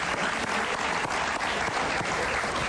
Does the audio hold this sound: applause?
yes